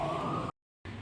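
Fire truck sirens wail in the distance, a steady high tone over low traffic rumble, cut off abruptly by a brief silence before resuming.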